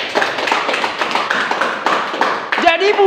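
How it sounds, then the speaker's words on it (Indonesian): A congregation claps in a broad, continuous patter, with voices mixed in under the applause throughout. "Tepuk tangan dulu buat Tuhan Yesus."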